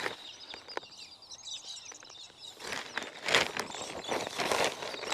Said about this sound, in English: Oh, birds are noisy, aren't they?